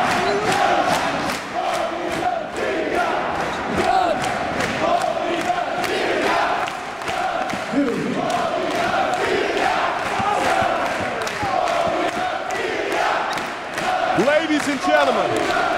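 A wrestling crowd at a wXw 2018 show during Bobby Gunns versus Ilja Dragunov chants loudly in rhythm with steady clapping, a dense, deafening mass of voices and repeated claps sustained throughout.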